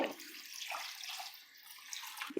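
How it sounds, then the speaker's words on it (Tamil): Two cups of water are poured into a pan of chicken curry, a soft, continuous splashing and trickling that is fairly faint and close by, ending with a small clink. "இந்த கப்பால் ரெண்டு கப்பு தண்ணி சேர்த்துக்கலாம்"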